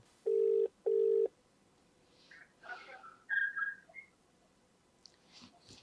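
A telephone rings back twice in quick succession while a call is placed, two clear even tones at the start, followed by faint rustling and small handling noises.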